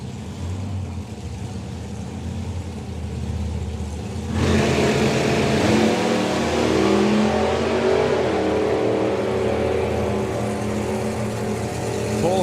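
A pair of supercharged outlaw drag racing cars launch down the strip at a nostalgia drag meet, engines bursting from a low idle into a loud, sustained roar that holds steady for several seconds with no voices.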